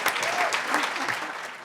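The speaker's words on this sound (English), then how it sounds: "So just a round of applause for them." Applause from an audience at an awards evening, a steady dense clatter of many hands clapping throughout, fairly close and even in loudness with no talk over it.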